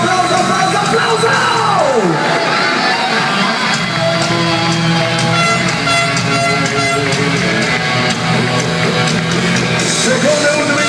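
A supercross arena crowd in Genoa yelling, whooping and cheering in a loud, continuous wash, with a motorbike engine sweeping past early on.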